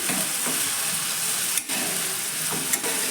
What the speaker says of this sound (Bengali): আমি ভালো করে প্রথমে লবণটা মিশিয়ে নিই